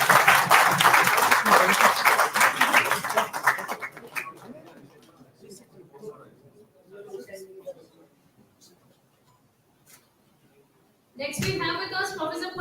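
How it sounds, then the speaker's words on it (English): Applause from an audience at an award ceremony during an institutional summit, clapping loudly for several seconds then tapering into scattered claps and near silence before a voice speaks at the end. "Big round of applause."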